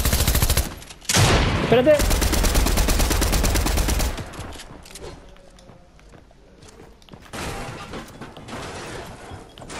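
Loud shotgun blasts in the Fortnite video game, with a dense burst of gunfire up front, then quieter shuffling and scattered shots, and a brief spoken word.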